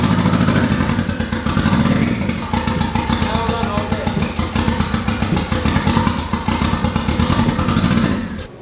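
A boosted Honda K20 engine in a Civic on its first start, running rough with a fast, uneven lumpy idle and clattering pulses close by, then dying out at the end. Voices talk over it.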